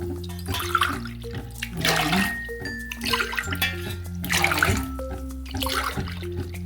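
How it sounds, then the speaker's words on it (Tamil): Water splashes and pours in several short bursts into a pot of toor dal for bisibelebath, with soft music playing underneath. "5 டம்ளர் தண்ணி வச்சிடலாங்க"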